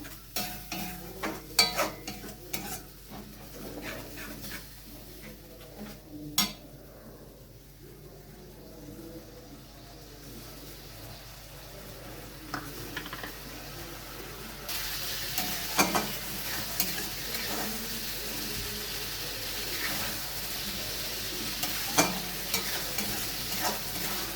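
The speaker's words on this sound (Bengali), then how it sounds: "ভালোভাবে মশলাটা এবার কষিয়ে নেব।" Tomato paste and spice masala stir-fried in a pan for a spinach and prawn dish, repeated scraping stirs of a spatula over a low sizzle that grows louder and denser partway through, close and without talk.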